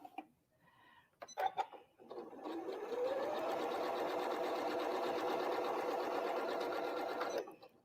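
A sewing machine stitches a quilt block, with a few short clicks and whirs that build into a steady, even run of fast stitching, close and moderately loud, then stop.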